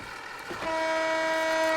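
A train on the Japanese Forest Rail route in Train Simulator 2015 sounds a steady horn tone that begins partway through and holds over low rolling rumble, loud and close.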